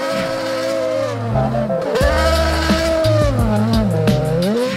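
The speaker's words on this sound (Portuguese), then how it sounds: "colocar o seu carro de Fórmula 1 no gelo com Max Verstappen" Red Bull Formula 1 car driven on ice in the Austrian Alps, a loud continuous high-revving engine whine rising and falling through gear changes, close and steady, with tyre noise and no talk.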